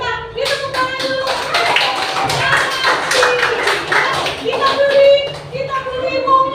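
A classroom of pupils claps hands together in a loose, uneven burst of claps, with a teacher's voice and children talking over them.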